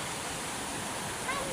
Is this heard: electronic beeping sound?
no